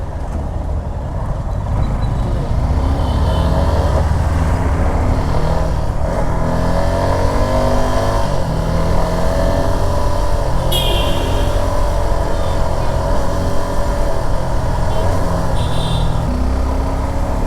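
A Suzuki Gixxer 250 FI ABS motorcycle accelerates on a road, its engine producing a loud, continuous drone with wind rush mixed in throughout.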